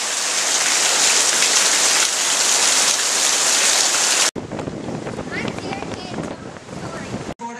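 Heavy rain from Hurricane Fay in Florida, a dense steady hiss of downpour with wind noise, then cutting to rain heard from inside a vehicle with muffled drumming and drips.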